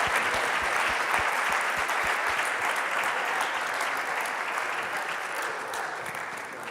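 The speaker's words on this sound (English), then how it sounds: "a big round of applause for them" An audience at an awards gala claps warmly for the mentors, a sustained, even round of applause from a sizable crowd that slowly tapers toward the end.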